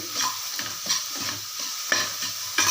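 Onions fry in a pan for a Tamil vada curry, the sizzle rising and falling with repeated stirring strokes and utensil taps close by, no voices.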